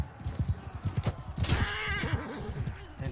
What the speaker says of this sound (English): Okay, I'm on a horse.